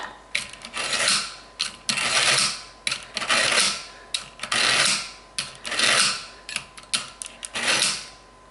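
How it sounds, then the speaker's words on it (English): A kitchen knife drawn repeatedly through a knife sharpener gives loud, close, rhythmic rasping strokes, about a dozen evenly spaced scrapes, each swelling and cutting off sharply. "I'm going to sharpen it with my sharpener."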